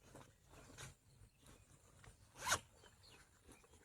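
A bag's zipper is pulled open in one quick, close rasp amid soft rustling and handling noises, as a small knife is taken out outdoors.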